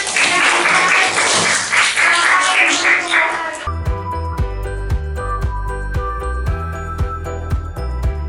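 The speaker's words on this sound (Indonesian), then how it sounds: "aplaus untuk kelompok 1 teman-teman" A classroom applauds group 1 with several seconds of dense clapping from many students. The clapping stops abruptly and gives way to a bright, rhythmic jingling tune.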